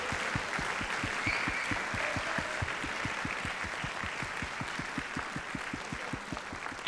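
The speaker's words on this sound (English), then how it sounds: "can we have one more round of applause?" Audience applause for the class of 2025 after a high school spring orchestra concert, steady dense clapping throughout with a regular low thumping pulse underneath, no voices.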